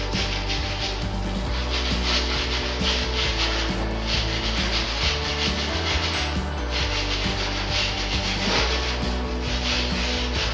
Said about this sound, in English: just take a nylon brush, brush it in.